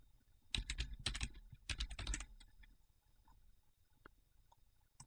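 Quick bursts of keystrokes on a computer keyboard as a file name is entered, a few clustered clicks up close, then scattered single taps in a quiet room.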